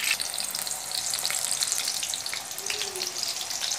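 Potatoes frying in hot oil, a steady, dense sizzle and bubbling that stays close and constant from start to finish with no talk.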